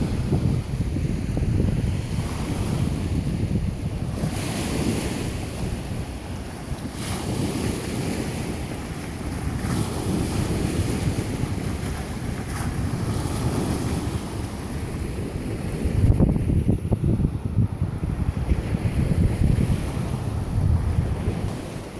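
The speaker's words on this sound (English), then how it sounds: "I don't know what kicked up those waves, but something did" Waves wash onto a small beach by the pier in Benicia. Heavy, steady surf rumbles nearby under strong wind buffeting the microphone.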